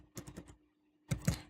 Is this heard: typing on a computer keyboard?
yes